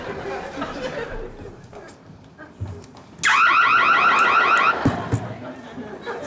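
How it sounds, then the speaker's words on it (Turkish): A loud electronic alarm, fitted to a vendor's onions in a comedy sketch, suddenly starts blaring with a rapid warbling pulse and keeps ringing for about two seconds over chatter and audience laughter. "soğanı alarm mı taktın?"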